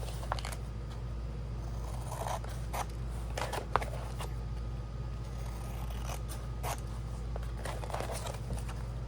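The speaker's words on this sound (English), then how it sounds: "So going to take my scissors and cut those spots." Scissors snip through material in a series of short, close cuts at an uneven pace, with quiet handling noise between them and no speech.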